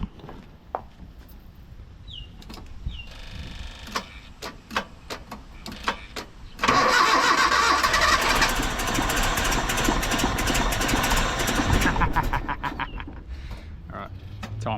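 Mitsubishi L200 pickup engine after an EFI conversion, with an electric fuel pump running. Cranking thuds and clicks come first, then the engine catches and runs loudly and steadily up close before easing off.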